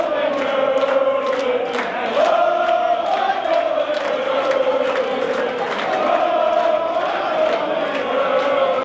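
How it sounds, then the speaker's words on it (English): A large arena crowd at the US Darts Masters in Madison Square Garden, New York, roaring and chanting in a loud, continuous wash of voices with rhythmic claps and shouts throughout. "As you can hear, the crowd was certainly rocking for the U.S. Dart Masters."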